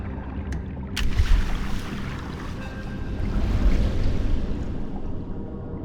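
An unstable ship tossed on a rough, windy sea in an action film, heard as a steady, loud roar of wind and crashing water that swells and churns, with a sharp knock near the start.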